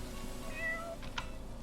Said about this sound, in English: Stray cat has given birth to a kitten.